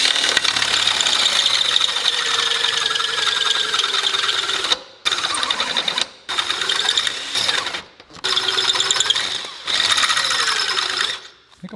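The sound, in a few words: drill cutting into camper flat bed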